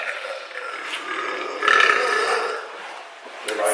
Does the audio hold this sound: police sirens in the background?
no